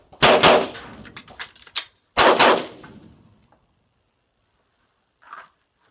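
Pistol shots fired in a two-round, reload, two-round drill using the slingshot reload method, loud sharp cracks in two close bursts with a clack between, followed by quiet and a faint metallic clink.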